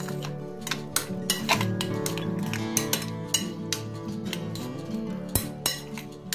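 A spoon clinks against a bowl while mayonnaise and mustard powder are stirred into a vegetable sandwich filling, giving light, irregular taps and scrapes close by.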